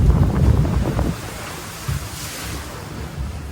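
On Tiana's Bayou Adventure at Magic Kingdom, Walt Disney World, the ride boat drops and a loud rush of water splashes up close, then fades into softer wind and water noise.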